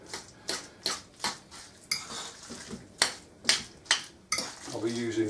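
A wet meatball mix of spinach, egg and bacon stirred in a bowl, with a run of rhythmic, close clinks and scrapes of a utensil against the bowl, ending with a short voice.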